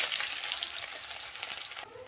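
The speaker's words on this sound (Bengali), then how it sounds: "আমি চিনির মধ্যে পেঁয়াজ কেটে রেখেছি পেঁয়াজটা দিয়ে দিলাম" Chopped onion dropped into hot oil with sugar bursts into a loud, bright sizzle close by, easing slightly before cutting off abruptly near the end, no talking.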